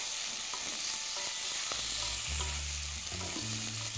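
Chicken pieces being mixed in a hot cooking pan, producing a continuous sizzle and frying hiss with occasional scrapes of the spoon, loud and close with no talking.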